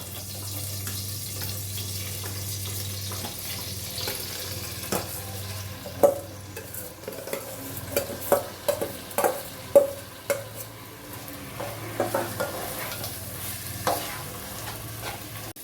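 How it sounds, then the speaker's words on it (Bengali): Soaked rice fries in hot oil with garam masala in a wok, with a soft sizzle under repeated scraping and clattering stirs from a utensil, close up and fairly quiet. "গরম মশলাটা গরম হয়ে গেছে ভালো মতো, এবার চালটা ভেজে নিচ্ছি।"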